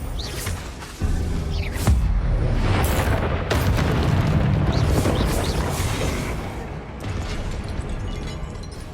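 Confringo blasting spell in Hogwarts Legacy, a loud booming explosion with crackling debris and sharp bursts that rumble on for several seconds before fading.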